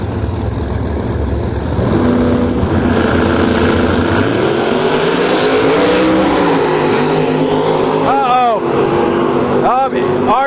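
A late model Camaro roars down a drag strip in a loud, sustained engine pass, pitch climbing through gears, while an announcer talks over the din.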